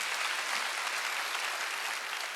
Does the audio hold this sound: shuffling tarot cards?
no